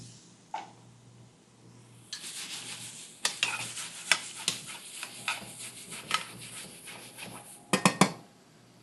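Onion and broccoli are tossed in a pan for a chicken stir fry, with clanking spatula strikes against metal, stirring scrapes and a faint sizzle underneath.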